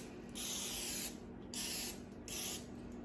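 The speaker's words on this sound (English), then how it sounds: "So we're going to spray this." Three short hissing bursts of cooking oil spray onto a baking pan, each lasting about half a second to a second, close by with brief pauses between.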